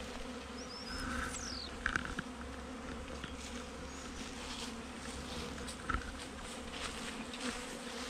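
Honey bees buzz around an open hive in a continuous, low hum up close, with a few brief louder passes from individual bees and faint background noise, no speech.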